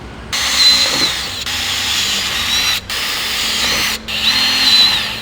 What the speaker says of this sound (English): Take your 8mm drill bit in your drill and put some pilot holes in.